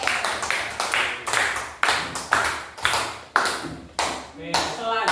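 Students in a classroom clap for a group returning to their seats, in a loud, rhythmic pattern of sharp claps about twice a second with ringing decays, voices mixed in.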